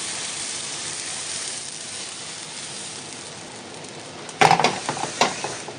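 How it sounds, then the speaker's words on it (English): A faint steady sizzle of chicken frying in a pan, then louder scraping and stirring clatter in the pan toward the end. "Can you hear the chicken sizzling in the background as well?"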